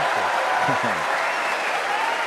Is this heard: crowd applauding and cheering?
yes